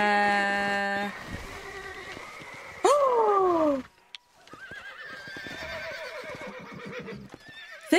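A horse in the Western video game Red Dead Redemption lets out a loud, clear whinny with a falling pitch, followed by game sounds and scattered clicks and thuds.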